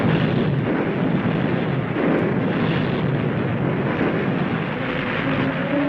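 Airstrikes and naval gunfire pound enemy positions in a wartime battle, a dense continuous roar of distant explosions rumbling together without pause, heavy and booming through the whole stretch.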